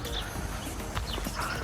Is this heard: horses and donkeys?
yes